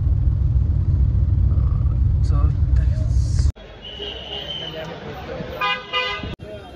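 Heavy road traffic near a cricket victory parade rumbles loudly, then gives way to several car horns tooting in short blasts; voices are heard over the scene.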